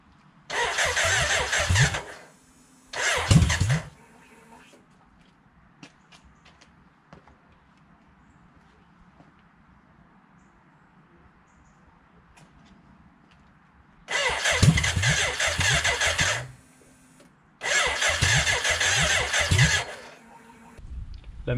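BMW K100 motorcycle engine with no silencer fitted, roaring loudly in four bursts of starting and running, with quiet pauses between the bursts.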